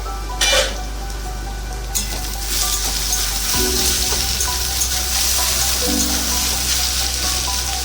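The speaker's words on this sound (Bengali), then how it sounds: "আলু বেগুনটাকে এইভাবে ভেজে নিতে হবে এটা জল ছাড়াই হবে" Potatoes and eggplant fry in a pan without water, giving a steady close sizzle with a few sharp clatters of stirring near the start and a fuller crackle in the second half.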